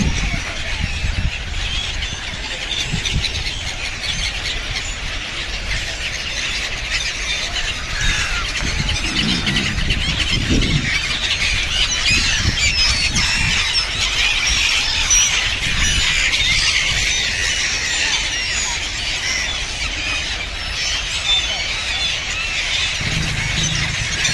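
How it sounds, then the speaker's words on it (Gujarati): A large flock of white pigeons, thousands strong, fills the air with continuous chattering squeals and squawks, busy and dense, with occasional low thumps and no talking. "કેટલા બધા કબૂતર છે. જબરજસ્ત છે."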